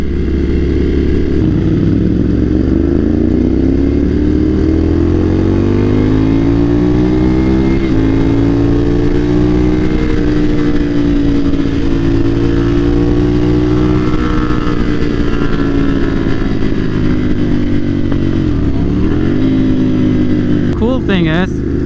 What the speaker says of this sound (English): like 130 bikes on the track right now.